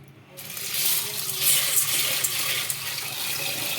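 Sago pearls are washed in water, with a steady close rush of running or splashing water filling the whole moment at moderate loudness.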